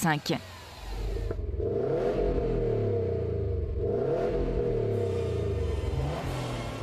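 Subaru WRX STI with its 2.5-litre turbo boxer engine revving up loudly, a rising and falling mechanical drone that holds steady for several seconds after a brief clatter at the start.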